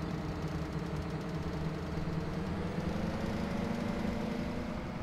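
Tractor engine pulling a cultivator in the farming video game Farming Simulator 2017, a steady low droning rumble with a slowly rising tone, constant and close with no other sounds.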